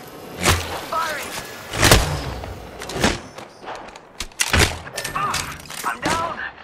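Apex Legends gunfire cracks out in a handful of loud, separate shots spaced across the moment, with thuds between them and voices talking over the fight.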